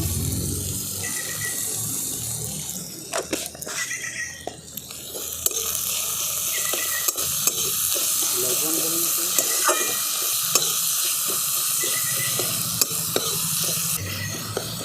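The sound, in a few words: tomato, onion, ginger and garlic frying in a pan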